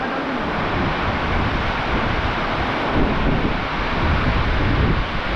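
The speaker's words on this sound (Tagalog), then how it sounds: "Lakas ang hangin, Otoy." Strong wind buffets the microphone beside a river, a steady loud roar with low rumbling gusts running through the whole stretch, no voices.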